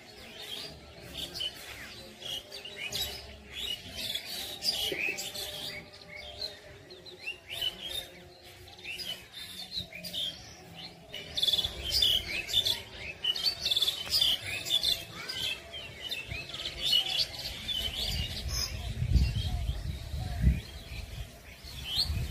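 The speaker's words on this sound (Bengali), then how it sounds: "আমাদের বাড়ির ঠিক পিছনে পুকুরের পাড়ে বাঁশঝাড়টায় সারাদিনে অনেক পাখি এসে বসে আর কিচিরমিচির করে ডাকে" Many birds chirp and twitter in a bamboo grove behind a village house beside a pond, a steady, fairly faint chorus of overlapping calls with some low rustling and no talking.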